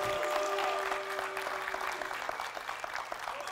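A church ministry audience applauds to welcome a speaker, steady full-room clapping that stays loud and even for a few seconds.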